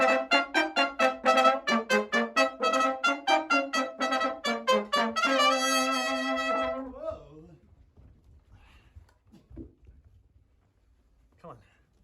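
Spanish-tinged music in an early New Orleans style, a rhythmic run of bright tonal ensemble notes that swells into a sustained chord and then cuts off, leaving only faint scattered sounds at the end.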